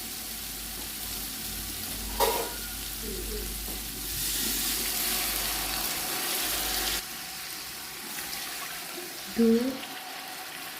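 Masala cooked down in a pot for green chana pulao hisses and sizzles softly, with a brief louder splash and surge as water goes in, while a voice counts quietly over the cooking.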